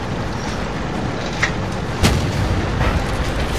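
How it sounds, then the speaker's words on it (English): Tank cannon fire in the World of Tanks video game: one sharp, loud gun report about halfway through, followed by a fainter distant boom, over a steady rumbling battlefield background. "Ooh, Kinesi, yes, nice shot"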